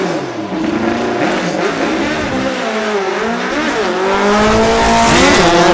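A naturally aspirated Volkswagen four-cylinder Pro Stock drag car screams down a drag strip, its high-pitched engine wailing loudly and continuously with rising revs and gear changes throughout.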